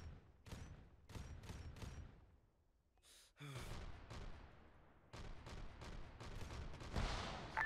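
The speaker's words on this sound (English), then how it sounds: "Bolter fire northwest" Bolter gunfire in Arma 3 arrives as sharp, closely spaced bursts of shots, several volleys with a short lull midway, fairly distant and faint.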